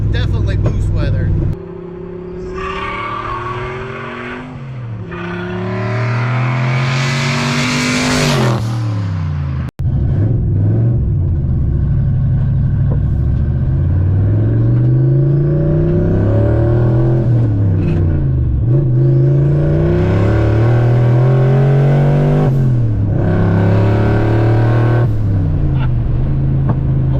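A turbocharged Fox body Mustang with heads, cam and intake pulls hard through the gears, the engine rising in sweeping climbs with a brief shift break, turbo spool whining over the loud cabin drone.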